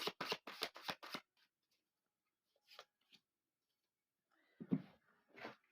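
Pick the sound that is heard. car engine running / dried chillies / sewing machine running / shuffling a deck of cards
shuffling a deck of cards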